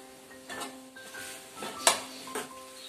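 Cluster beans with garam masala are stirred in a pan at home, a few light metallic scrapes and clinks of the spoon against the pan with one sharper clank, close and without talk.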